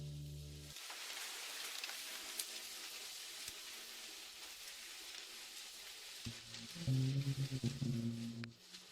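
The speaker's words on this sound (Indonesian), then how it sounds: "Tidak pulang di tengah hujan deras?" Heavy rain falls in a dense, steady hiss of drops on surfaces, loud and continuous, with low tonal bursts of music or a voice-like hum near the start and end.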